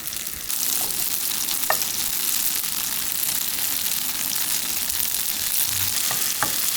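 Tofu pan-frying in a generous pour of oil over high heat that is then turned down a little: a continuous, even sizzle with a few faint clicks.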